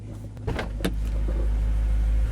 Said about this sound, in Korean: 이 기계적인 그 엔진 안에 있는 수많은 메탈 부품들이 서로 마찰을 일으키면서 돌아가는 이, 이 아이들링 시의 소리